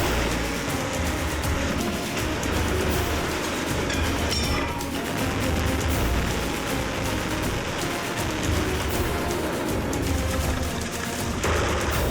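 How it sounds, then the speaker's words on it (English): Dense, continuous roaring blast noise with crackling bursts, loud and sustained throughout like a big explosion effect rumbling on. "And 3, 2, 1, explosion!"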